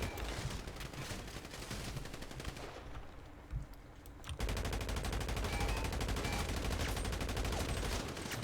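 Rapid bursts of automatic gunfire crackle almost continuously, pausing briefly near the middle before resuming loud and dense, with game-like effects in the mix.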